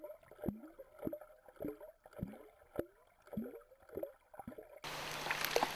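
Hand-worked mallard motion decoy on water, a rhythmic series of splashy gurgling pulses about twice a second, close and moderately loud, ending with a switch to wind-like noise.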